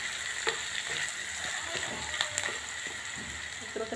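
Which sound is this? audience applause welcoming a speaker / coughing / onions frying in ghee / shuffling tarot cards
onions frying in ghee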